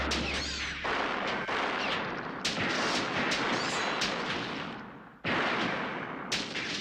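A big explosion in the film Chopping Mall: a loud, dense roar of blasts and crackling rumble, with a sharp renewed burst partway through, continuing close and unbroken.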